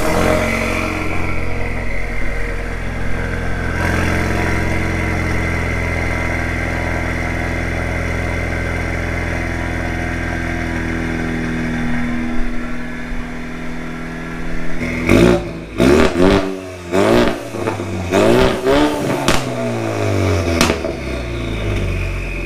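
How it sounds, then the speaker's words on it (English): A Ford Mustang EcoBoost with no mufflers, only a resonator, idles with a steady low drone, then gives several sharp, loud throttle blips near the end that rise and fall in pitch. "This is what it sounds like with a resonator."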